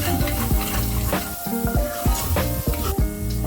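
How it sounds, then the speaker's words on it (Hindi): Chicken curry masala being stirred in a hot pan for a Punjabi dhaba-style curry: dense sizzling with repeated scraping strokes of a spoon against the pan, close and continuous, no voices. "पहले इसको अच्छे से मिक्स कर लेंगे।"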